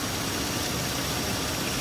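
A 1982 Imperial with an EFI conversion runs under the hood, a steady close engine hum mixed with a broad hiss, even and unbroken over the short stretch.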